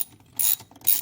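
A ratchet with a 16 mm deep well socket snugs down a ball stop on a 2025 Ram 1500 Limited during an oil separator install, giving two short, close clicking bursts.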